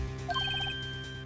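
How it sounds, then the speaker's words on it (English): A short electronic phone ringtone from the Phoenix Wright: Ace Attorney video game plays a quick rising run of beeping tones over a steady low hum. "I heard a phone ring just now."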